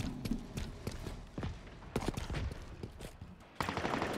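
A Mangler shotgun fires in a capture-the-flag video game match, sharp blasts repeating irregularly among other gunfire and mechanical clatter, loud and close.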